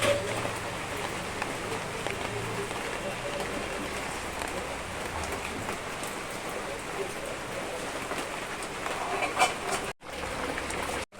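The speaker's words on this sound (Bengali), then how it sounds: "বাইরে হালকা হালকা ভালোই বৃষ্টি পড়ছে" Light rain patters steadily on surfaces outdoors, a soft continuous hiss with faint scattered drops and a brief low voice early on.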